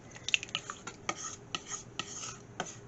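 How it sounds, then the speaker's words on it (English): Chicken broth being stirred into a slow cooker mix in a small crock pot: a spoon taps and scrapes against the pot in a quick, irregular run of close, light clinks over a soft background. "Chicken broth is added. I'm just stirring that in carefully, and again, mixing everything up"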